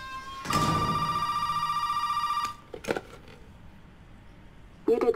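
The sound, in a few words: telephone ringing in video game Resident Evil 7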